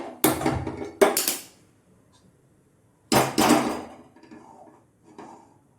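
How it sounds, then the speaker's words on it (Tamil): Several sharp metallic clanks and bangs of a pot being handled and set on a stove, in separate bursts with quiet gaps between them, close by. "இப்போது ஸ்டவ் ஆன் பண்ணி பாத்திரம் வச்சுக்கலாம்"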